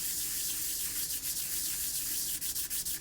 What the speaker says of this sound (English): Once I get this all sanded down, redo it on all of the steel plates